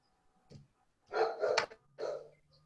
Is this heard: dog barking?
yes